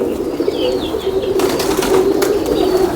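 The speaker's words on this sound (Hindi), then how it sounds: "ये हमारे हाथ में एक कबूतर है, कलसरा सहारनपुरी कबूतर है जी।" A Kalsara Saharanpuri pigeon held in the hand coos softly close by while wings flutter and rustle in brief bursts, over a steady low background hum.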